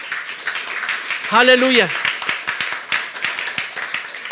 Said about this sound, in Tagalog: Palakpakan natin, pumalakpak yung mga pinagpala.